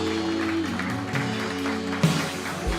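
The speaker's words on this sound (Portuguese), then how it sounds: "Pode aplaudir com toda a força, irmãos." A church congregation applauds during worship, a steady wash of clapping blended with sustained music and voices throughout.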